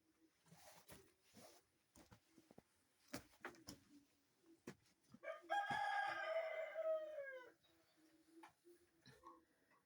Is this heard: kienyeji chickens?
yes